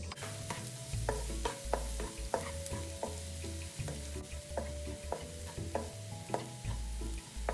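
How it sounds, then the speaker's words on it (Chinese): Minced garlic stir-fried in oil over a steady medium flame for bamboo shoot rice, with a continuous sizzle broken by scattered clicks and scraping stirs, close and moderately loud, with no talking. "接着将蒜末倒入爆香，炉全程保持中火就可以了"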